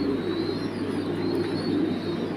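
French pigeons coo steadily in a low, continuous murmur, a flock of about four kept in a cage, the soft calls blending into a close, even drone with no voices.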